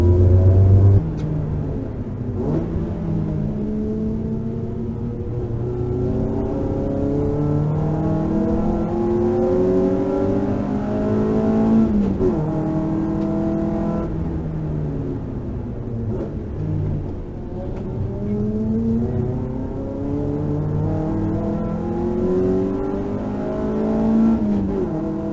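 A race car at Hampton Downs accelerates hard through the gears on a damp but drying track during Superlap, its engine rising and dropping repeatedly in long revving sweeps, loud and continuous with no talk.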